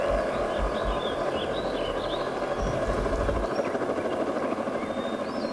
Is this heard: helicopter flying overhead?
yes